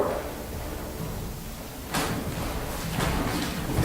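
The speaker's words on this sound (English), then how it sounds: "Open a door." A door is opened inside the old Walker Building during a paranormal investigation, with a sudden scraping, clattering burst of movement followed by another shorter knock a second later in a hushed room.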